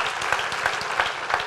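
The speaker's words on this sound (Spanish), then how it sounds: "Dale un aplauso al Señor bien fuerte" Church congregation clapping together in a steady rhythmic beat during a worship service, continuous and fairly loud throughout.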